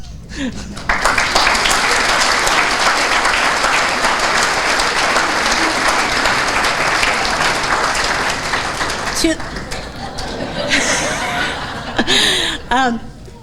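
Loud, sustained audience applause fills a small business and heritage awards ceremony, with scattered laughter and chuckles, tapering near the end as a voice returns.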